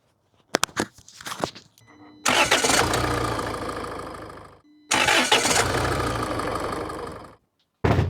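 A car engine cranks on an ANCEL Super Starter with an AGM battery, a few stuttering attempts, then two long loud cranking bursts separated by a short pause, recorded close to the engine bay.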